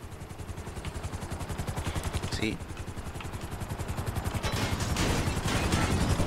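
A helicopter in GTA beats with a fast, loud rotor chop that builds steadily toward the end, with a sharp crash-like burst partway through over the game's background.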